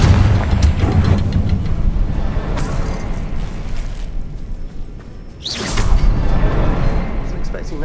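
A Confringo blasting spell bursting in the Hogwarts Legacy video game, a dense, booming explosive roar with a whooshing tail, fading briefly before another loud surge near the end, with speech-like game voices mixed in.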